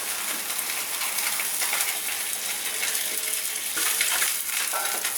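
A sea bass fillet frying skin side down in a pan, a dense continuous sizzle and crackle, close and steady, with no talk.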